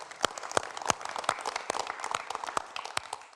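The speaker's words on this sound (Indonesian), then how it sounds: "kalau begitu tepuk tangan dong untuk semangat hari ini" A small audience at an Indonesian pre-dawn Ramadan talk show claps, a thin, fairly faint patter of individual hand claps with distinct sharp hits spread through the moment.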